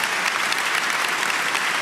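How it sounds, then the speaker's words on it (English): Steady, dense applause from a large summit audience, loud and close, filling the whole moment with continuous clapping and no break. "it's your applause"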